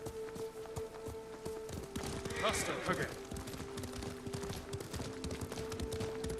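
Rapid hoofbeats from a galloping horse in the video game Ghost of Tsushima, steady and fairly close beneath music and ambience, with brief spoken lines over the top.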